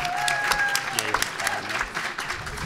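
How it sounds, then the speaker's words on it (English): Conference audience at The New School applauding and cheering during a closing session, dense clapping with sharp individual claps and a few whoops and high voices rising over it, fairly close and loud. "Feel free to cheer."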